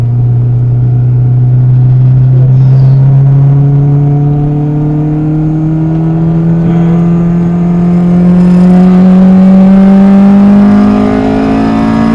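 A modified Honda Integra DC2 with a Type R swap, a 1.8-litre naturally aspirated four-cylinder, accelerates hard. A loud, steady engine drone climbs in pitch through a long pull, heard from close by.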